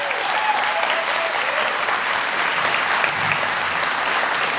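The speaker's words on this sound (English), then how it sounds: "Mr. Harrison, let's give him a big round of applause." Steady, full audience applause fills a large hall at a city's State of the City address, greeting the city manager; loud, continuous clapping without a break and no talking over it.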